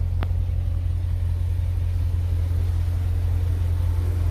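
Steady low engine drone from a 2015 C7 Corvette with an 8-speed 8L90 automatic transmission on the move, heard from inside the cabin, even and constant with a single faint tick early on and no talking.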